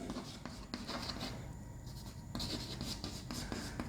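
Marker or chalk strokes scratch across a classroom board in short bursts with pauses between them, close and clear, as a chemistry teacher writes out a word.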